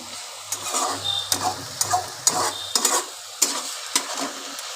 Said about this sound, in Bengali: এবার আমি ভালো করে শাকটাকে আলুটাকে কষিয়ে নেব